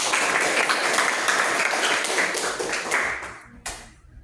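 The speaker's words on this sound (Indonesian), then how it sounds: "Kasih tepuk tangan untuk Nadia" Schoolchildren in a classroom applaud a student named Nadia, bursting into brisk, dense clapping that carries for about three seconds, then thins to a few scattered claps and one last sharp clap.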